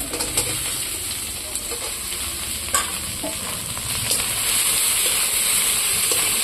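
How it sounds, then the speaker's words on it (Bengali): Potatoes sizzle and fry in a hot wok (kadai), a steady bright crackling hiss with a few stirring clinks, close and without talk. "এখন আলুটা দিয়ে দেবো কড়াইতে দেখো আলুটা কড়াইতে দিয়ে দিচ্ছি"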